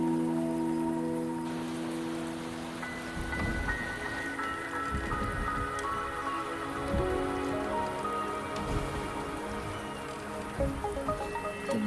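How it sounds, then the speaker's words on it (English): Steady rain falling in the video game Wuthering Waves, a dense even patter of drops on surfaces with a faint low rumble like distant thunder, continuous and fairly close, with no talk. "The rain is subsiding, and the sky will soon clear."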